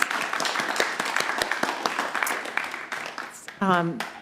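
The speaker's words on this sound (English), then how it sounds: "Let's all have another round of applause for her and for ourselves." Audience applause fills a fellowship assembly hall at a Sunday gathering, a dense, steady patter of many hands clapping for several seconds before it thins out and a voice comes in at the end.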